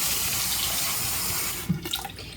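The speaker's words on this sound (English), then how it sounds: "Now we're gonna rinse them." Running tap water pours steadily into a sink as baby octopus are rinsed, a constant broadband splash that cuts off near the end, followed by a few brief clatters and drips.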